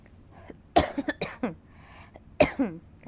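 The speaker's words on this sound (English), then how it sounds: "That was a weird cough." A man gives a few close, loud coughs: an abrupt burst followed by short hacking coughs, then a lone cough a moment later.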